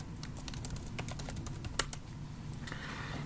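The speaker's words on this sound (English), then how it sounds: "So I'll just type that in here." Someone types on a computer keyboard in a quick, even stream of close, light key clicks over a low room hum, with one sharper keystroke near the middle.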